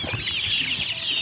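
Local farm chickens are fed grain, giving soft clucks and chatter over a steady bright rustle, close by and brief.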